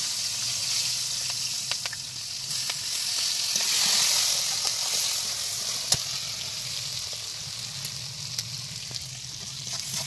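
Green chillies and onion fry in hot oil in a home kitchen where chicken is being cooked. A steady, fairly quiet sizzle swells and fades, broken by occasional small clicks from stirring.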